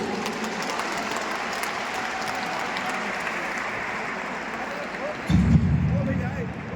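An audience claps steadily, moderately loud and diffuse, lasting several seconds, and then a louder low thump or rumble cuts in near the end over the fading applause.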